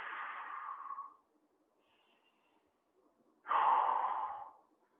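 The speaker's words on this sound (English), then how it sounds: "Breathe into the belly." Two slow, deep breaths taken into the belly during a stretching routine, each a soft airy rush lasting about a second, separated by near silence, close and fairly quiet.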